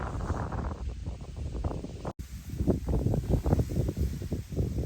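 Wind gusting across open farmland in May, a steady rumbling buffet against the microphone with rustling swells, continuous and fairly loud, no voices.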